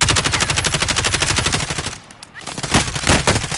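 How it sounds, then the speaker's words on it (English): Rapid automatic gunfire in a battle royale video game, a dense burst of rattling shots that breaks off briefly before more loud bursts resume. "Get some cover fire on him."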